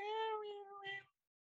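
A cat in Iceland meows once, a clear drawn-out call with a short rising second syllable, close and alone with no talk.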